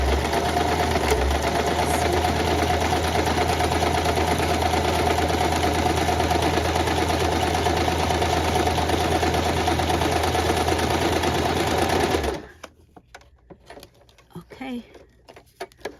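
A sewing machine stitches through a paper card, a loud steady whirring hum that runs continuously for about twelve seconds and then stops abruptly, leaving faint handling noises.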